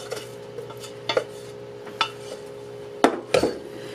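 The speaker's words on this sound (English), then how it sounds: "Let's give it a stir." Stuffed pepper soup with rice in a crock pot is stirred with a spoon, giving a few scattered clinks and knocks against the pot, the sharpest near the end, with no one talking.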